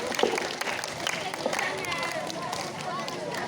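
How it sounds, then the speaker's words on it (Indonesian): A school crowd claps for a primary student receiving an achievement certificate at SD 62 in Banda Aceh, a soft, steady patter of many hands heard from a distance with some murmuring voices mixed in. "Beri tepuk tangan untuk Amelia Az-Zahra."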